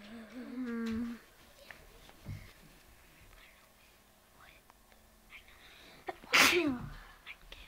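A single sharp sneeze bursts out mid-recording during a quiz-style book competition, loud and brief against a quiet room with faint murmured speech before it.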